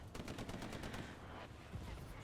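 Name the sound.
strafing run gunfire in video game Hell Let Loose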